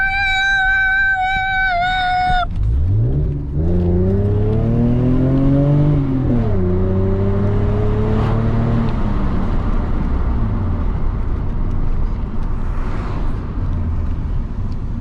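A Lexus SC300 engine revs up and climbs in pitch close by, then settles into a steady loud drone with shifting engine tone as the car drives on a hot, humid day.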